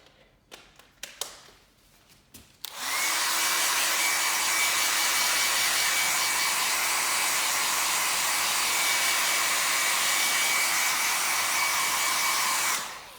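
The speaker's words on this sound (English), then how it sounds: "Give it a quick dry over with the hairdryer." A hairdryer drying the surface of perforated leather after cleaning during a tear repair, running as a loud, steady continuous whoosh for about ten seconds after a few brief handling knocks at the start.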